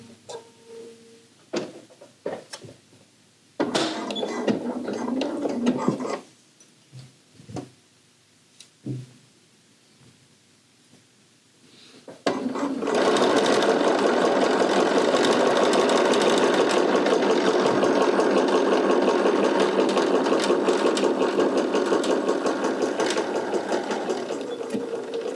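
A sewing machine stitches a dart into a 1910s–1920s style cocoon coat, running in a loud, steady continuous whir for about the last half, after several short start-stop bursts of stitching and handling noises.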